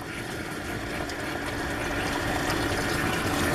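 Water rushes through a car engine cooling system during an extreme radiator and heater core flush, a steady hissing gush that grows slightly louder over a few seconds, with no voices.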